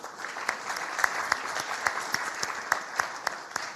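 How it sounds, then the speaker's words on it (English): A conference audience applauds a panel on digital and technical skills development with sustained, continuous clapping and a few sharper individual claps standing out. The applause stays even and moderately loud throughout. "A round of applause for the panel."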